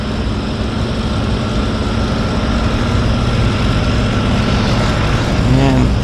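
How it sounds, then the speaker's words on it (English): Radial engine of a Gulf Island Seaplanes floatplane in Vancouver's downtown harbour, a loud, steady low rumble and drone filling the whole stretch, with a faint rising whine near the end. "Hear that round engine."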